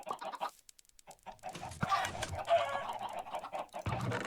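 Chickens cluck in a busy flurry of clucks and squawks, close and fairly loud, with brief pauses between bursts.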